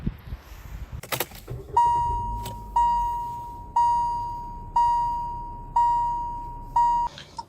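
A 2018 Kia Stonic 1.4 readies to set off, with a few clicks and a rustle followed by a steady series of about six evenly spaced electronic chimes, close and clear.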